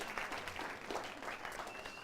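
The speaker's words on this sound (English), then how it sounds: "Yeah, give them a round of applause." Soft audience applause at an environmental film festival talk, a low, steady patter of many hands that keeps an even, fairly faint level throughout.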